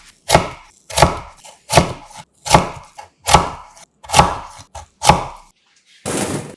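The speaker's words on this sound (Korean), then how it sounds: "1cm 두께로 편 썰어주세요. 썰기 적당하게 정리한 후 다시 1cm 두께로 채 썰어주고요." A knife chops radish into 1 cm strips on a cutting board, landing seven loud, evenly spaced strokes close by with no talk.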